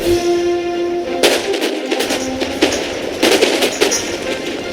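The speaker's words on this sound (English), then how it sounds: "So I killed a couple of these Windbushes with that volley" Musket volley in Empire: Total War during a Prussia versus Austria battle, heard as several sharp, loud bursts of gunfire over steady battlefield noise, with clustered shots near the middle and end.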